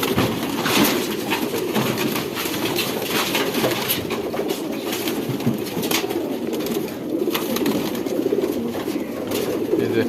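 A flock of pigeons in a home loft in Hemayetpur coo steadily in a dense, overlapping chorus that runs throughout, against a busy background of rustling and movement.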